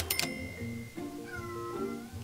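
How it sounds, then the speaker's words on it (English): A cat in The Sims video game meows a few times in quick succession: short, tonal, whiny calls, clear and close, with no talking. "He's a really, really weird cat."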